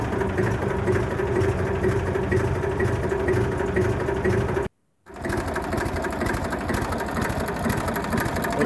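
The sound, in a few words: warm tractor engine starting and idling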